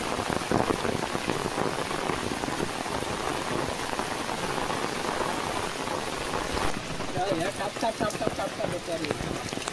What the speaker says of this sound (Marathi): पाऊस बघा कसलो पडता भारी